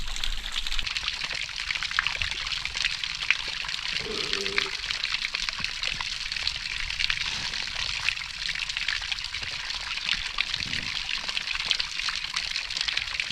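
Dam-supplied water pouring steadily into a container in a village, a continuous splashing, trickling hiss that stays even throughout, close by, with a brief muffled voice in the background.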